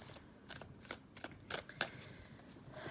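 Tarot cards being shuffled by hand, a run of quick crisp riffling bursts about a dozen times in three seconds, close and quiet, with no talking over them.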